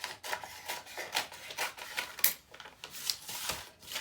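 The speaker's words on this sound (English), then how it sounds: "I am going to go ahead and just cut that piece off" A piece is cut off a paper bag journal with a run of close, rhythmic rasping strokes and scrapes through the thick paper. The strokes are fairly loud and steady, with no talking.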